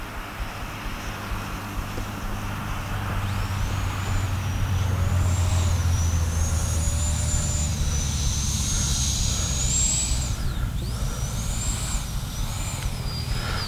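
Electric ducted fan of a Freewing A-6 Intruder RC jet whines steadily with rising and falling pitch as it spools up before takeoff, loud and close, with no talking.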